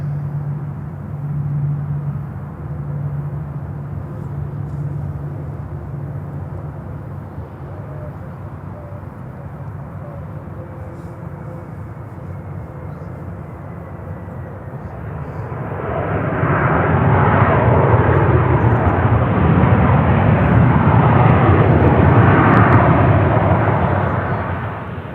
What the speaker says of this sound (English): And there's the next plane coming in.